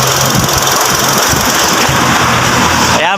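A 2019 Mitsubishi Strada four-wheel-drive pickup engine idles loud and steady, with a constant rumble and a dense broadband chug throughout and no talking.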